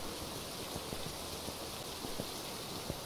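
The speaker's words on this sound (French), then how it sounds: "Ah, il pleut." Steady rainfall in the ghost-hunting video game Phasmophobia, a soft continuous hiss with scattered faint drop taps, even and moderately quiet throughout, with no one speaking.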